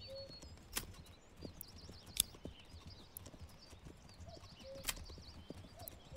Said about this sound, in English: there's the horse in the hitching post